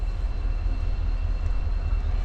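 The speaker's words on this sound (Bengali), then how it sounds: "হ্যাঁ, একটা ট্রেন ঢুকছে দেখতে পাচ্ছি।" An NJP–Haldibari local passenger train, engine only, rolls into Haldibari station as a steady low rumble and drone, loud and close, without voices.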